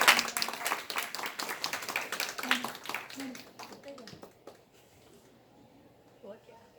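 An audience claps to welcome a guest being presented with a bouquet and books at a college event, brisk applause fading out over a few seconds, with speech over it and a quieter tail afterward.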